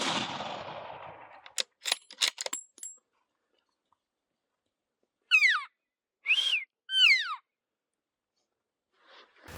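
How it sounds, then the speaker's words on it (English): A 28 Nosler rifle fired at a bull elk in foggy timber, a loud sharp report with a fading roll at the start, followed by a few clicks of the action and later several whistling elk-like calls at mid distance. "So that was the first shot that she made on that bull."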